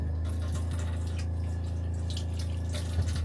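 Water running steadily from an RV faucet with the water pump on, a constant close hiss and splash with a low steady hum underneath, no talk.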